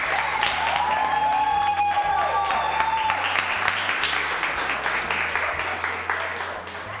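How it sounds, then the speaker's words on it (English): An open mic crowd applauds a poet with steady, full clapping that fades gradually, while tonal music or a sung line rises and falls over it and faint voices mingle in. "please give a warm applause for our poet, Alpha-Bet"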